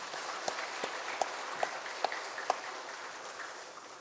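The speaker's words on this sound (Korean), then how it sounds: "우리 영광중앙교회를 사랑하시고 역사하시는 우리 주님께 영광의 박수." A church congregation claps together in praise, a steady wash of applause with a few sharper individual claps standing out, moderately loud and filling the room without talk.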